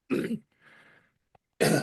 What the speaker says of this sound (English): I really have to cough